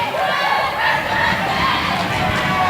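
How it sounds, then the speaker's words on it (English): A rowdy crowd at a girls basketball game cheers and shouts continuously, a dense, loud wash of voices and whoops filling the gym with no break. "The crowd gets a little bit rowdy"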